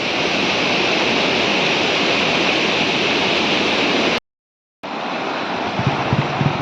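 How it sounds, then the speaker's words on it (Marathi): A river at Bhuibavda village flows with a loud, steady, close rushing roar of water. The sound drops out for a moment and then returns. "भुईगवडा गावची नदी"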